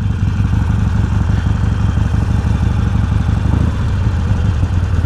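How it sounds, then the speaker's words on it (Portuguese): A Harley motorcycle engine rumbles steadily and loudly up close while riding on dirt, a continuous low throaty drone with no pauses. "Essas motos aqui não foi feito pra andar na terra"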